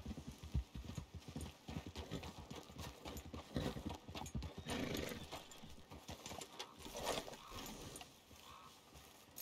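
Horse hooves clip-clop steadily in Red Dead Redemption 2, a close, busy rhythm of hoofbeats with a brief whinny, filling the scene with no talk over it.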